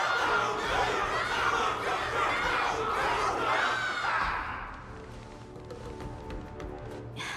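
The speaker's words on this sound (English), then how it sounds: "Everyone's cheering for you, Luca!" A crowd cheering and shouting in the video game Honkai: Star Rail, a dense, loud roar of many voices that stays up for several seconds, then drops to a quieter hum with faint musical tones.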